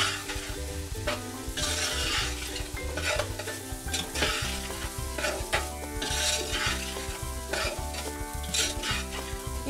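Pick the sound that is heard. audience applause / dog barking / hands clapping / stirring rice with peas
stirring rice with peas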